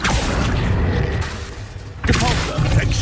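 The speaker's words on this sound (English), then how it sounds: "Confringo!" Confringo fire spell exploding in the Hogwarts Legacy video game, two loud booming blasts with rumbling tails, the second hitting just past halfway, mixed with other combat noise.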